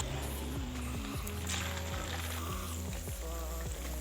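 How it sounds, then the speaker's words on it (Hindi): Potato donuts fry in hot oil with a steady, dense sizzle and bubbling, accompanied by low tonal background music throughout. "अब हम इसको ऑयल में आहिस्ता से डाल देंगे।"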